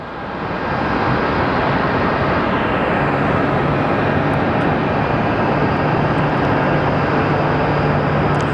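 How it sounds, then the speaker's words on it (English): An Alaska Airlines Boeing 737 MAX 9 arriving from Seattle at Phoenix airport gives a loud, steady jet engine roar that swells within the first second and then holds without letup, close by, with no voices. "So up next we have Alaskan 744 coming in from Seattle."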